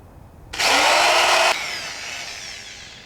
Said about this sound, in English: first I'm going to start off with drilling 2 small holes in each plate for our wire connections.